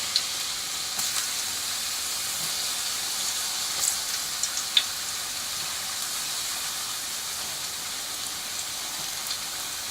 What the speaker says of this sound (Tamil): நல்லா ஃப்ரை ஆகிற வரைக்கும் அப்படியே கொஞ்சம் நேரம் திருப்பி போடாமல் அப்படியே விட்டு வச்சுக்கலாம்.